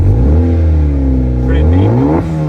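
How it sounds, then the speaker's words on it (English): Engine of a modified Honda Accord revving up close and loud, with a steady deep harmonic drone that climbs in pitch after about a second and a half, then drops back near the end. "Alright, let's listen to that now. Rev 9, alright? You can do a few revs."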